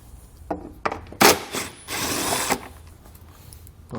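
An 8mm socket ratchet loosening taillight bolts on a vehicle, with a couple of short clicks, then a sharp burst and a sustained rapid ratcheting rattle, close and fairly loud.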